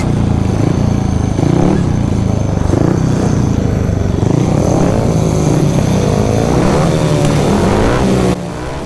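A speedway motorcycle at Belle Vue practice day roars loud and close through a start, its engine revving hard and rising in pitch as it pulls away, then cutting off abruptly near the end.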